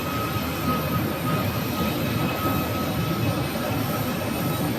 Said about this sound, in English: Two CRJs. CRJ 900. The one coming in.